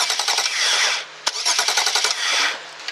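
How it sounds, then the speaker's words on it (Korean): Starter motor cranking the engine of a BMW E93 335 convertible in a repair shop, a fast, steady rhythmic churning close by with a short break partway through, no talk over it. "똑같은 방식으로 여기다가 제가 넣으면 엔진이 회전을 하겠죠."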